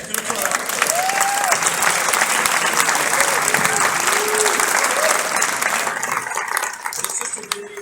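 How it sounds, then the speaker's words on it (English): Loud, sustained applause from an audience at a film festival awards ceremony, dense clapping with crowd whoops and cheers mixed in, easing slightly toward the end. "Yes, you can applaud."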